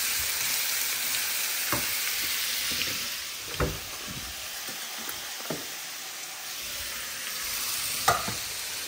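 Potatoes dropped into hot oil with a pinch of turmeric in a brand new fry pan for alu bhaji, crackling and sizzling up close with several sharp stirring clacks against the pan.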